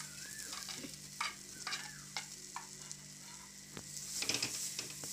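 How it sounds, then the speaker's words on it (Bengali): A spoon scrapes and stirs fried potato pieces through a spice mix in a pan, with soft sizzling and a series of sharp clinks and scrapes against the metal, close and alone. "দিয়ে সুন্দর করে নাড়াচাড়া দেব।"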